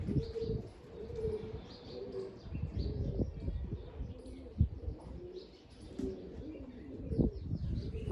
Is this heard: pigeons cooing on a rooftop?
yes